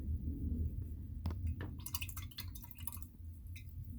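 Water drips and small wet taps land on blue paint on a craft tag, a scatter of soft close splashes over faint background hiss.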